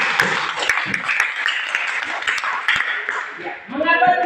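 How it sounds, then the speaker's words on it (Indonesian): Fifth-grade schoolchildren clapping together in a classroom, a busy burst of many small hands that fades out, followed by an adult voice speaking alone at the close. "kita tepuk tangan sekali lagi"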